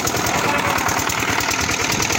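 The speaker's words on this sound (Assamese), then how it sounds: "এতিয়া নাওত উঠিলোঁ আৰু নাও যাই আছে, বুটবুটি যাই আছে" A motor boat engine runs steadily as the boat carries passengers across the water, giving a loud, continuous throbbing drone with a fast regular pulse throughout.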